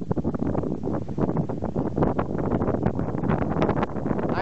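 Wind rushes and buffets around the blades of an 8 MW Adwen offshore wind turbine in Bremerhaven, a steady, loud broadband roar with gusty rustling that fills the whole stretch.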